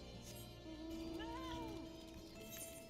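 A cat meows from within Final Fantasy XIV gameplay, a single drawn-out, rising-and-falling mew heard clearly over steady background game ambience.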